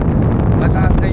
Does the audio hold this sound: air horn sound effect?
no